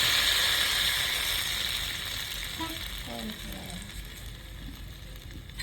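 Steady sizzling of pakoras frying in hot oil in a wok, a loud continuous crackle that eases slightly, with faint voices in the background.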